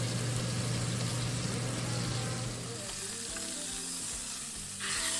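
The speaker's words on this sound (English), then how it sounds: "Once we've got a good sear on the one side, give it a flip." Seasoned beef sears in a hot pan, a loud, steady broadband sizzle running unbroken throughout, easing slightly partway as the meat settles.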